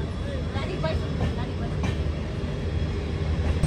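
Low rumbling rail noise from a train arriving at Banaswadi station, a steady drone heard from on board with faint clanks and voices in the background.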